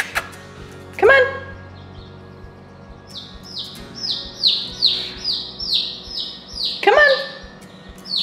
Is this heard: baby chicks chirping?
yes